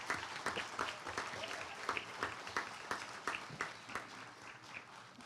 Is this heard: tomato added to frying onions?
no